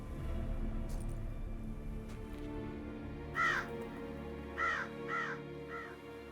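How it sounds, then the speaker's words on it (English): Crow cawing in The Witcher 3, a few harsh caws in short bursts, one then a quick run of three, clear over a steady low game ambience with no talk. "Oh, there's this crow."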